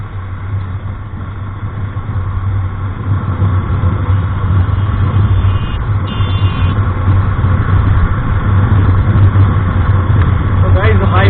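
Bajaj Avenger Cruise 220 motorcycle engine while riding on the road, a steady loud low drone with wind rush throughout, a few brief higher tones near the end.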